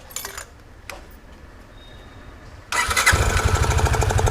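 A Yamaha FZ25 motorcycle with its air filter removed cranks and starts after a few quiet seconds, then settles into a loud, close, pulsing idle.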